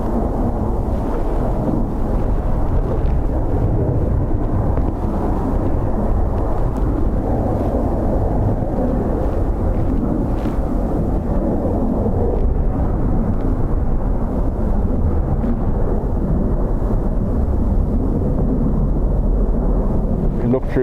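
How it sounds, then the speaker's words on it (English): Jet airliner engines roar past at Dublin Airport on a windy day, Embraer E2 and A220 types with Pratt & Whitney engines, a loud, continuous low rumble mixed with wind buffeting the microphone, with no clear individual voices. "Jilly, the noise those Embraer E2s and the A220 make, the Pratt & Whitney engines"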